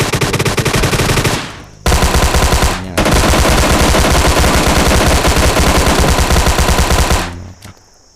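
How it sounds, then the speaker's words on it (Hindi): A Tommy gun in PUBG Lite fires long, loud, sustained automatic bursts with rapid repeating shots, briefly pausing twice before the stream of gunfire trails off. "टॉमी में 50 बुलेट्स मिलती हैं, इसलिए मैं इसको मार देता हूँ"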